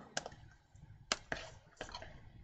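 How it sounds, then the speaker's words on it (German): Scissors snip through folded paper card while a handmade wedding fun-fold card is being made, giving three sharp, close clicks and crunches at irregular intervals over quiet background. "Haben hier die Schere und schneiden hier die Strecke ab."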